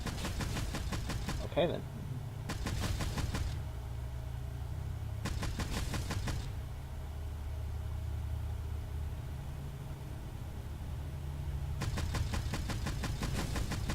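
In MEG 9: Lost Echoes, bursts of rapid gunfire are aimed at lava rocks. Four short volleys are separated by stretches of steady engine drone, and a voice speaks briefly.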